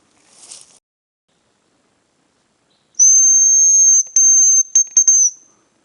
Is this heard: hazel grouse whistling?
yes